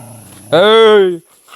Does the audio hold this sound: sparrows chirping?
no